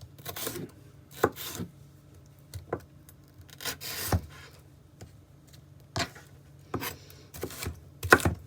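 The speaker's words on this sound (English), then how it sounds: "Cut up a little bit of pepper." A knife chops pepper on a cutting board during no-egg omelet prep in an RV kitchen: a dozen or so separate cuts at an uneven pace, each a short crisp knock, fairly quiet and close, with no talking.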